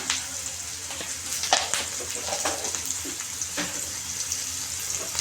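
Onions cook with turmeric in a pan, giving a close, moderate sizzle broken by several sharp stirring clinks and scrapes of a spoon.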